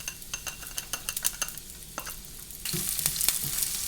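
Onion hitting hot oil in a pan, with clicks and scrapes of stirring first and then a louder, steady sizzle that swells and holds near and close.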